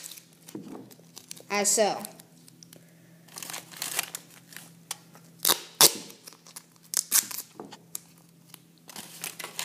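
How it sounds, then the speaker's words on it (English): Electrician's duct tape is pulled and pressed onto cardboard, giving sharp crinkling, tearing and ripping sounds in irregular bursts, close by, with a person speaking briefly over it. "take the electrician's duct tape. And with that, you will tape it to the cardboard."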